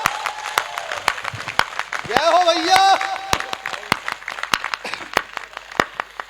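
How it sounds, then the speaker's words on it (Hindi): Scattered audience clapping at a Hindi comic poetry recital, sharp separate claps spread across the clip, while a voice calls out briefly in the middle over the hall's murmur. "एक बार दोनों हाथ खड़े करके तालियां बजाइए"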